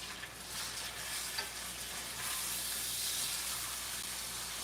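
Meat searing in a hot pan on a home stove while cooking live, giving a steady, fairly loud broadband sizzle and frying hiss that swells slightly midway, with no talking.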